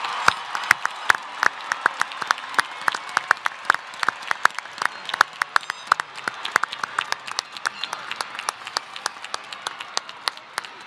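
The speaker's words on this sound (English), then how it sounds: "Please join me in a round of applause" A large audience at a 2019 San Francisco State University commencement ceremony breaks into dense, sustained applause, a steady wash of many hands clapping with faint crowd noise.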